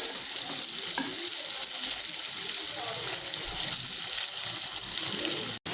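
Okra, potato and onion fry lightly in a pan, giving a dense continuous close sizzle with faint watery bubbling and occasional stirring, no clear talk over it.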